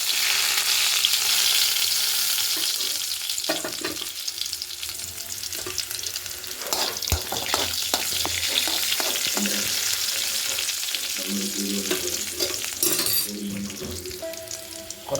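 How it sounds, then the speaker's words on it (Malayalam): Chopped shallots sizzle and spit in hot oil with already-popped mustard seeds in a pan, steady broadband frying close by with scattered stirring scrapes and clicks, no voice over it. "നമുക്ക് കുറച്ച് ചുവന്ന ഉള്ളി അരിഞ്ഞ് ചേർത്ത് കൊടുക്കാം"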